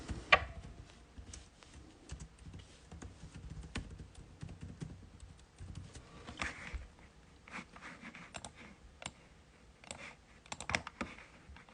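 Keys clatter on a computer keyboard in quick irregular bursts as someone types a short greeting into a design tool for a cake topper, close and fairly quiet with brief pauses between runs.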